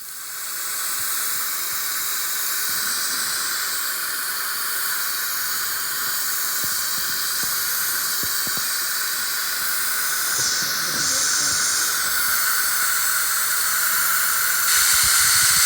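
Compressed air at 30 psi hisses steadily out of cylinder 3 of a 2008 Triumph Tiger 1050 during a leakdown test, a loud continuous close-up hiss with a few faint clicks underneath.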